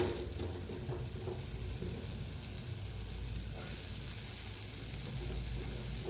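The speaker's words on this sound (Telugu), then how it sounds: "ఇది కూడా ఒక 2 మినిట్స్ మనం నీట్గా ఫ్రై అయితే చేసుకోవాలి టమాటో" Tomatoes fry in a pan with a steady, even sizzle that continues softly throughout the clip.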